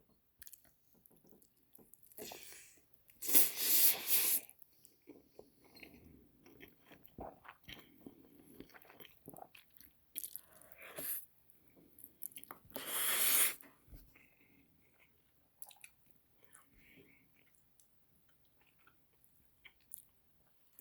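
Mouthfuls of cheesy noodles being chewed up close, with soft wet squishing and a few louder crunchy bursts spread across a quiet stretch.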